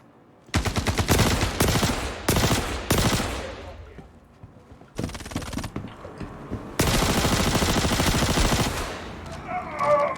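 A shotgun is fired in rapid bursts of heavy, loud blasts in the Star Citizen video game, the shots bunched into several tight clusters with short gaps between them.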